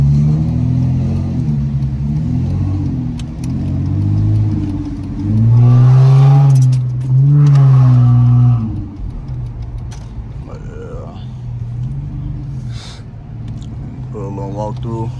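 A catless 2008 Dodge Challenger Scat Pack at night, its V8 rumbling low with two strong rising revs in the middle, someone talking over much of it.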